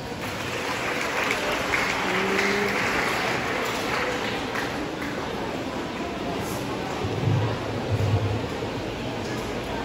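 Steady applause from a large crowd at a graduation ceremony, dense and continuous for the whole stretch, with faint voices mixed into the clapping.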